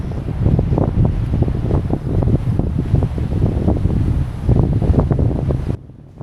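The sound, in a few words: strong wind on the rocky coast at Pagudpud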